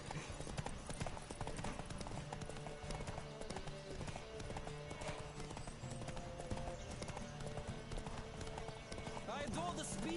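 Galloping horse in The Witcher 3: rapid, steady hoofbeats drum on without a break amid dense in-game sound, with a brief whinny in the mix.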